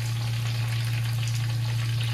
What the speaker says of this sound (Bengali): বেশি কড়া করে ভাজবো না, হালকাই ভেজে নেবো।